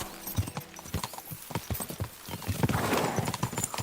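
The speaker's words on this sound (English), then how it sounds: "We should spur the horses on." Horses galloping in the Kingdom Come: Deliverance II video game, with steady rhythmic clip-clop hoofbeats close by, a brief whinny, and a rising rush of movement toward the end.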